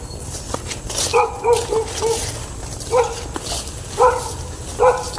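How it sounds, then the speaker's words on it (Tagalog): A dog barks in the dark outdoors at night, giving several separate barks and yips at a moderate distance, spaced irregularly across the clip over a low background hum. "Mukhang hindi lang ako yung nakikita ng aso na yan na tumatahol mga boss."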